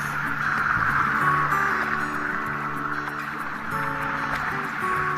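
Waves wash steadily along a seashore where people are bathing, a continuous surf rush under a low droning hum, with no clear talk.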